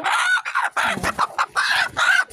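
A hen clucks repeatedly in short, loud bursts nearby, part of a backyard flock that also keeps ducks; the rhythmic squawks come in quick clusters with brief gaps between.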